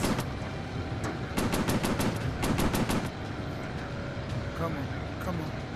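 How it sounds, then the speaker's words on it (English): Fighter plane machine guns fire in a VR air combat game over the Pacific, several rapid bursts of rattling gunfire over a steady engine drone, with a player talking at times. "Let's use machine guns."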